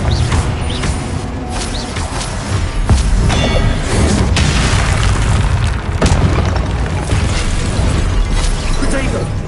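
Fire-blast spell explosions booming in Hogwarts Legacy gameplay, dense and loud with repeated bursts and thuds over a continuous game soundscape, a voice speaking over the action.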